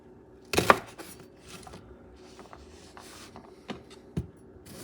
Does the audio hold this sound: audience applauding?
no